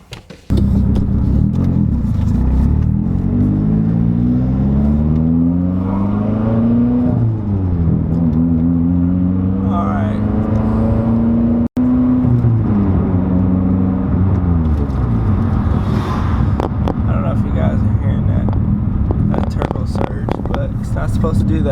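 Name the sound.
Mitsubishi Evo X engine with turbo surge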